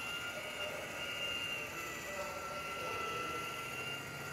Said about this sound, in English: So it's an exhaust fan, it draws the air out.